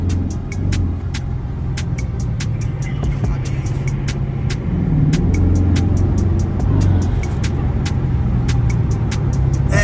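A 392 car engine accelerating on a highway exit loop, a loud low rumble building steadily from inside the car, with repeated sharp clicking ticks running over it.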